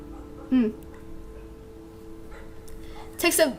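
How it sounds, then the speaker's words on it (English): Dogs bark in the video game Butterfly Soup, two short yipping barks a few seconds apart over faint background music. "Dogs!"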